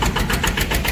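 A single-cylinder engine on a small Thai farm vehicle, the iTaen type, runs close and loud with a fast, even chugging pulse at a meeting of modified vehicles.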